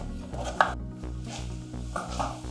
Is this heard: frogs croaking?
no